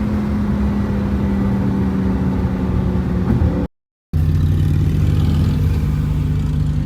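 A 2020 Lamborghini Huracan Evo with a 5.2-liter V10 accelerates hard. The engine roar is loud and constant, heard from the driver's seat, and drops out completely for a moment before it carries on.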